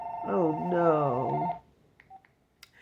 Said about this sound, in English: Oh, that's the phone in the living room.